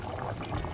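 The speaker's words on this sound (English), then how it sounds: "Rice and peas is bubbling here" Jamaican rice and peas bubble in a cooking pot while a big Easter Sunday dinner is prepared, a dense, steady simmering fizz heard close up for under a second.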